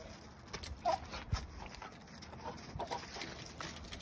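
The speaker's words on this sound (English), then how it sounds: "That's my dog." A dog whimpers faintly in a few soft, short whines, spread across a quiet outdoor background with low rumble.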